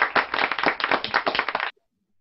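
Rapid hand clapping in an online Christian music class, a dense burst of close claps lasting under two seconds and then stopping abruptly into silence.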